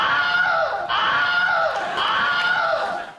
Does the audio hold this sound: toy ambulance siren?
no